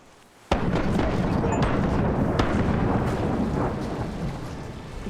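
A cannon broadside from a ship in a pirate video game erupts suddenly as a heavy, booming blast, then rolls on as a long rumbling roar with scattered cracks that slowly fades.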